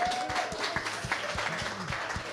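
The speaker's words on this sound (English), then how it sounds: "Everybody, big round of applause for Cyprian." A small audience applauds at a tech demo event for a presenter named Cyprian, short brisk clapping, a handful of hands close by, with faint murmuring.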